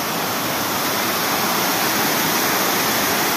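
Water rushing at the Maya Khola hydro dam, a loud, dense, unbroken roar like a waterfall filling the whole sound, close and steady.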